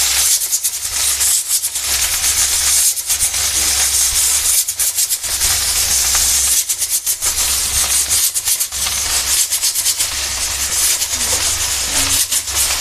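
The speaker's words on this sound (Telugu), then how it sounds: "అదే నూనెలో ఆకేసుకుందాం వేసుకుందాం" Leaves go into the same hot oil just used to fry chillies and sizzle with a loud, steady hiss that swells and dips with crackling surges. No one speaks.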